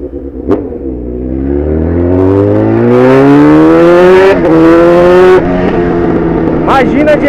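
A motorcycle engine revs up loudly through its exhaust pipe, pitch climbing steadily in a long rising whine, then dropping back to a rough idle.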